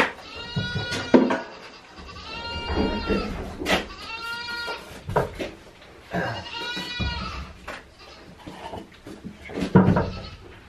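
Several goats bleat in repeated wavering calls, fairly close, with a few knocks and thumps in between.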